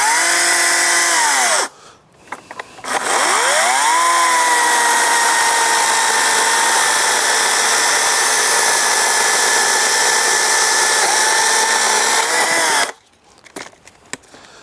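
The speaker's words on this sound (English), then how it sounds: "I enjoy playing around with chainsaws. So, again, that chain speed." A Greenworks electric chainsaw revs up and runs at a steady high-pitched whine for about ten seconds, briefly cutting out at the start and stopping near the end.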